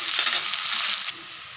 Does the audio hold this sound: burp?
no